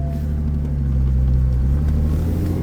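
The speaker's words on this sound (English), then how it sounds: "That is the fastest we've been so far in the B58 swapped E46." A B58-swapped BMW E46 Touring accelerating, heard from inside as a steady low engine drone and road rumble that swells slightly mid-way, with no speech.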